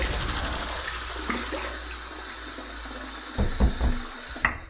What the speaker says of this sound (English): let's go ahead and wet the face and get to the shave.